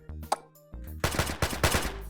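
Rapid bursts of gunfire from a weapon in a VR physics game, loud and close, after a few light clicks and thuds of handling.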